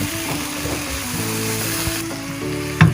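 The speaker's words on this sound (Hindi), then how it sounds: "तो यहाँ पे मैं डाल दूँगी गर्म मसाला और ये कद्दू की हरी मिर्च को अच्छे से भून लेंगे।" Garam masala and green chilies fry in a pan, giving a loud, close, continuous sizzle with steady crackle and a faint metallic ring, then a short clatter at the end.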